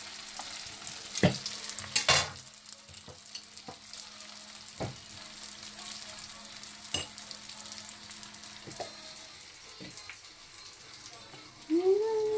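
Turon, banana caramel rolls, fry in hot oil with a constant bubbling sizzle, marked by scattered sharp clinks and taps of a utensil and a brief voice near the end.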